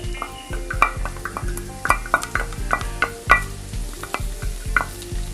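Onions, green chilli and ginger garlic paste sizzle and fry in a pan while a spoon stirs them, with repeated scraping and clinking strokes over a steady close sizzle and no talk.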